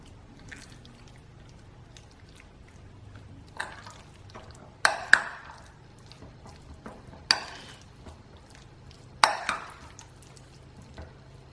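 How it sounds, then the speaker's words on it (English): A spoon mixes yogurt, salt and spices through raw chicken pieces for a marinade, producing soft wet squelching with four sharper clinks against the bowl, close up and without talk. "and some yogurt. And we're going to mix that through nicely."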